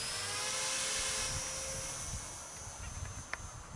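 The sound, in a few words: RC Spitfire model plane engine at full throttle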